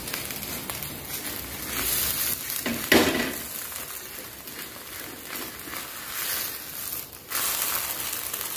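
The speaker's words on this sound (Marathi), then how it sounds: "छान अशी परतून घेऊया." Food stir-fried in a pan while barnyard millet (bhagar) dhirde and potato chutney are cooked, with a continuous close sizzle broken by louder scraping stirs and a short dip in the sound near the end.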